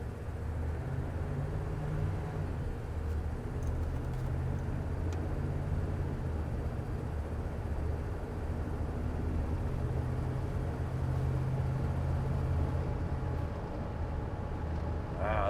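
A steady low engine rumble and road noise hum continuously from inside a moving 1983 Chevy K20 Scottsdale pickup truck at about 45 mph, even and unbroken throughout.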